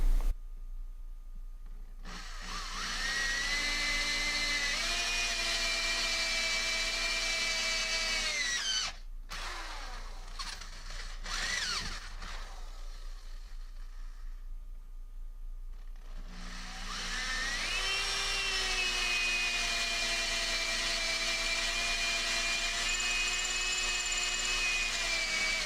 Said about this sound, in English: Drilling out 2 holes in the pan and 2 corresponding holes in the handle